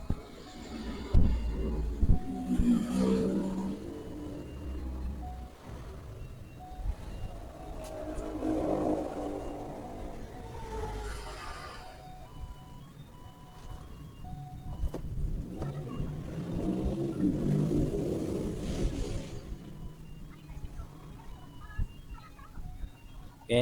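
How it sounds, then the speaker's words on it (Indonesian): Cars passing on a street outside a phone repair workbench, a steady background wash of traffic with several louder swells as vehicles go by, continuous throughout. "banyak mobil yang lewat, jadi harap dimaklumi saja ya teman-teman, karena suara mobil dan suara saya berbenturan"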